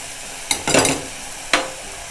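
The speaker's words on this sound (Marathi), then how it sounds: "जर आपण तेलावरती परतून घेऊया" Malvani masala sautés in hot oil in a pan: a soft continuous sizzle broken by a few sharp scraping stirs, near and loud, with no voices.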